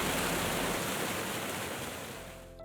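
The Iguaçu waterfalls, pouring over stepped basalt ledges, roar as a dense, constant wash of rushing water that stays loud and even throughout, with no voices.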